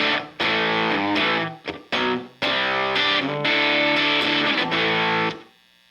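Heavily fuzzed electric guitar chords through a Keeley Monterey Rotary Fuzz Vibe pedal, loud and saturated, with a few brief stops before a final chord rings out and fades.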